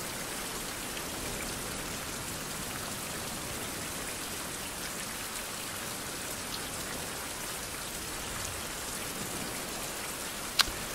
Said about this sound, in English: I guess we could sleep in the rain.